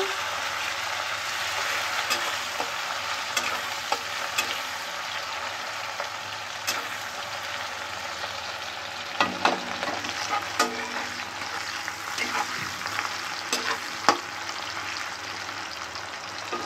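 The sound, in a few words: onions lightly frying in a pan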